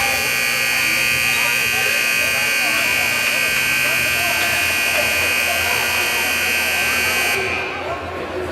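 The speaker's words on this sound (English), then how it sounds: "Was waiting for that buzzer to stop." A gym scoreboard buzzer at a 16U boys' basketball game blares loud and steady for about seven seconds before cutting off, with crowd voices and talk underneath.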